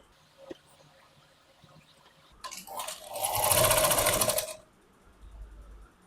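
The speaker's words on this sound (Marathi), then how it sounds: "इथून आपण अर्धा इंचाची शिलाई द्यायची" A sewing machine runs in one steady burst of rapid stitching, sewing a half-inch seam on a princess-cut blouse, with quiet handling before and after the run.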